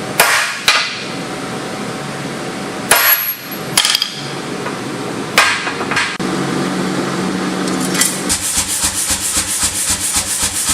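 Hammer blows on hot steel during forging of a war scythe, a handful of loud isolated strikes followed by a fast, steady run of repeated hammering near the end.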